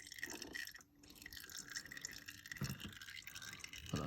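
Oil draining from the gearbox of a BMW GS1200 motorcycle during a service, a faint, steady trickle of liquid with a few soft drips in a quiet workshop.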